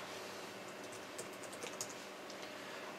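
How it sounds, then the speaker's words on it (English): Typing a command on a computer keyboard, a quick run of light, close key clicks and taps over a faint steady background hiss. "go ahead and type in the next command."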